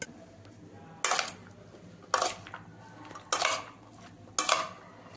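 A spoon stirs cut vegetables with potato and beetroot in a pan, making four evenly spaced metallic clanks over a faint background hiss.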